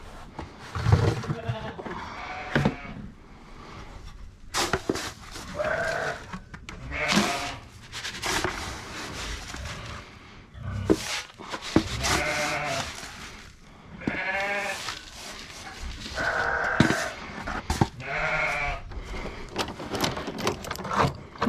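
Goats bleat repeatedly on a farm at feeding time on a hot day, their calls rising and falling close by. Rubbing and wooden knocks sound between the calls, and brief speech appears now and then.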